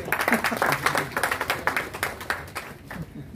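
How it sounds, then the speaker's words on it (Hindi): An audience in an auditorium at a journalism day event claps steadily, a dense run of close hand claps that thins toward the end, with some voices mixed in. "थोड़ा तालियां बजा दें जरा।"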